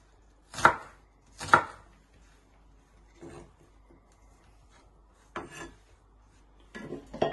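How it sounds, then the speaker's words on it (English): An onion being chopped into small pieces with a knife on a board, five or so distinct crisp chops spaced irregularly with quiet gaps between, close and clear with no talking. "Then turn it back round and chop it into little pieces."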